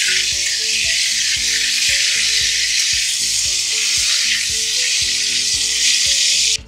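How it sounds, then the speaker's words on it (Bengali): Pomfret fish frying in hot oil gives a loud, steady, dense sizzle that runs without a break from start to end, with a low rhythmic pulse beneath it. "এইভাবে একদিক ভাজা হয়ে যাওয়ার পর আর একদিকটা এরকম ভাবে উল্টে দিতে হবে।"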